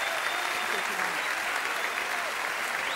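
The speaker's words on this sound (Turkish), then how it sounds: "Şu şıklığa bir alkış alalım." Steady applause from an audience, a dense wash of clapping that holds at an even level throughout.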